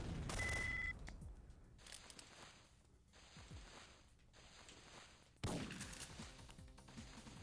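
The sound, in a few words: gunshots in a PS2 video game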